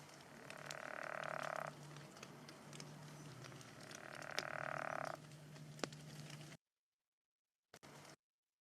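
Pickerel frog in West Virginia giving two long, snoring croaks a few seconds apart, with faint background clicks before the sound cuts out.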